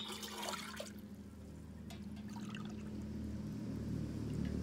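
Water poured from an ordinary cup into a cooking pot for rice, a brief close splash followed by a low steady trickling and hum from the kitchen, with no talking.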